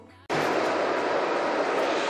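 Ride inside a tram: after a brief quiet moment the loud, steady rumble and rush of the moving car cuts in abruptly and holds.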